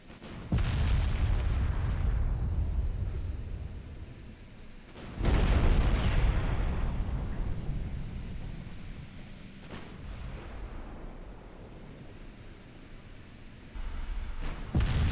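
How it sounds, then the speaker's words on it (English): Torpedo detonations and naval explosions in the Ultimate Admiral Dreadnoughts video game sound as deep rumbling booms, three heavy blasts each fading into a long low roar. "That torpedo detonated early."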